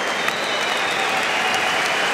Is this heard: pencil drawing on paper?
no